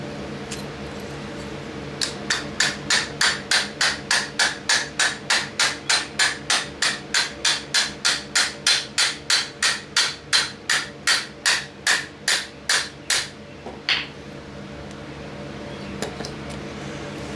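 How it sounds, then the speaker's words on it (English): Sharp, evenly spaced hammer strikes on a wooden deck ring out in a long steady series, about two per second, then stop, with a couple of faint taps afterward. "Let's get real happy with the big hammer, a regular hammer."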